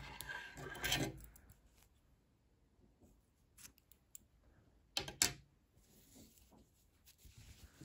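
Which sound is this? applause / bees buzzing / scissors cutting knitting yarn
scissors cutting knitting yarn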